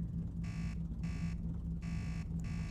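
A train simulator's AWS warning buzzer in a diesel railcar sounds in four even, repeating bursts over a steady low cab hum, with no talking.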